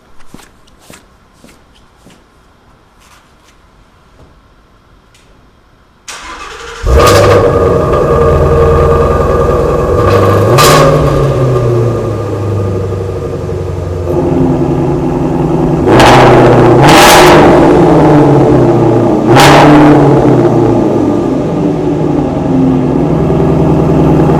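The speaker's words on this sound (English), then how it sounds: "I'll give you a quick startup sound. I'll give it a couple revs with the flaps closed" After a few quiet seconds, a Shelby GT350R engine fires up loudly and settles into a deep idle, broken by several sharp, roaring revs with the exhaust flaps closed.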